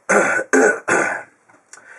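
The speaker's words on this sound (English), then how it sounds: "Sorry, I got a little sniffles, man." Three quick, forceful coughs close to the mic, followed by a soft breathy sniff.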